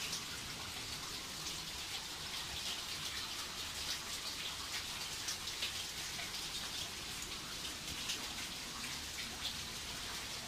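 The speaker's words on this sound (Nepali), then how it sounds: "एउटातिर पानी बगिरहेको छ।" Water pours steadily at Gaighat waterfall, an even rushing patter like heavy rain that runs on without pause, faint and a little distant, with no voices.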